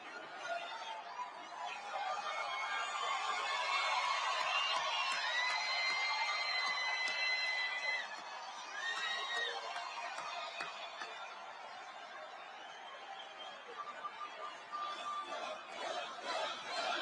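Huge arena crowd at a Trump rally in Madison Square Garden, New York, roaring and cheering in a sustained wall of noise, loudest early on, then easing slightly while still filling the hall.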